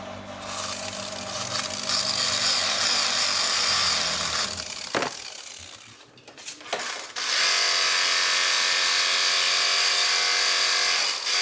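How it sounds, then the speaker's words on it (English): A polishing wheel loaded with compound buffs an aluminium On3 Performance intercooler for a 2nd-gen Cummins, giving a steady close whirring rub that drops out midway, then returns at full strength. "Now I've got my polishing wheel and some compound."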